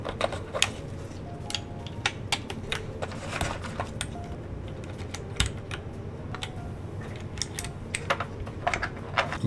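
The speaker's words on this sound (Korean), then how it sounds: "타이핑 한번. 사운드 들려주시면 됩니다" Someone types on a freshly assembled custom mechanical keyboard with a sandwich-style build, giving a close, continuous run of crisp key clacks at an irregular quick rhythm without speech.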